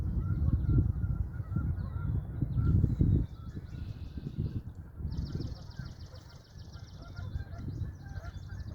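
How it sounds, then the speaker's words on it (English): Geese honk and other birds call beside a river at 6 AM, their bright cries repeating in bursts over a constant low rumble of water and wind. "There are lots of different birds"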